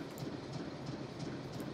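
A moving train in the video game Nancy Drew: Last Train to Blue Moon Canyon, a steady low rumble with soft rhythmic clickety-clack from the wheels, continuous and moderately quiet.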